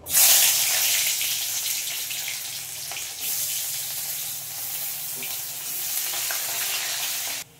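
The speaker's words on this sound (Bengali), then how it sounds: "এই তেল গরমে এখানে দিয়ে দেবো পেঁয়াজ কুচি" Chopped onion hitting hot oil in a home kitchen bursts into a loud, steady sizzle that holds for several seconds, dips briefly, then resumes with occasional stirring clinks before cutting off.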